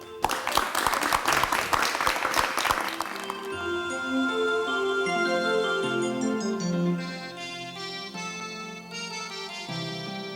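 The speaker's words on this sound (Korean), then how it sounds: "박수로 맞이해 주시면 대단히 고맙겠습니다" Applause from a television studio audience for about three seconds, then it fades as music takes over and keeps playing.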